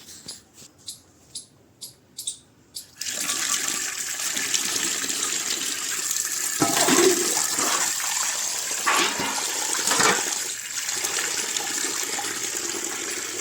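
Water gushes steadily from a tap while dishes are washed, a loud continuous rush after a run of seven short rhythmic knocks or scrubbing strokes.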